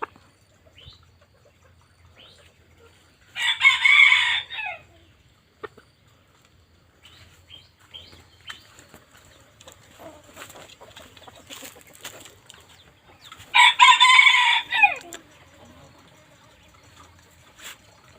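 A young rooster crows twice, roughly ten seconds apart, fairly close, with faint trickling and rustling in the quiet between.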